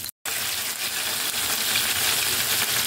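Dried milkfish (daing na bangus) fries in hot oil with a loud, dense, continuous sizzle that runs close and steady after a brief silent gap at the start.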